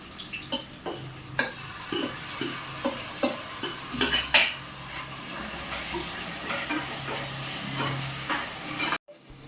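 Dried shrimp masala and onions fry in oil while being stirred, rhythmic scraping strokes over a continuous sizzle, close and fairly loud, ending abruptly.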